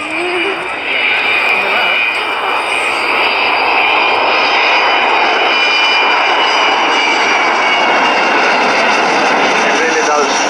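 Avro Vulcan XH558 delta-wing jet bomber at an airshow flypast at Church Fenton, its engines a loud, sustained roar that builds and holds throughout, with people talking nearby.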